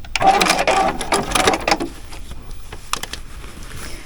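A new sewing machine runs through decorative stitches in quick mechanical bursts, loud at first and then thinning into a few sparse clicks and faint whirs.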